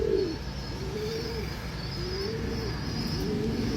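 Pigeons cooing in soft repeated rising-and-falling calls, several in a row, over a steady outdoor background hum.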